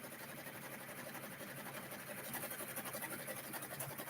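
A six-needle embroidery machine runs steadily at close range, a dense, even mechanical whir with a fine rapid stitching chatter and no pauses, alone without voices.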